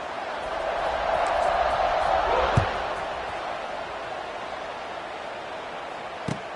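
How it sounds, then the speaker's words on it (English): A stadium crowd in a college football video game featuring Maryland produces a steady, even roar that swells slightly and then settles, with a couple of short thumps over the continuous wash. "this crowd is buzzing after that last score"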